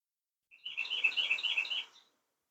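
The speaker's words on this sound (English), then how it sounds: "Those little wrens, lots of times that's what you're hearing when you're listening to my videos." A wren gives a rapid, bubbling chirping trill lasting about a second and a half, clear and close against silence.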